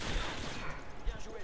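Rapid gunfire in a shooter video game right after a weapon switch, a dense, loud burst of overlapping shots with heavy low thumps that runs without a break for the whole moment.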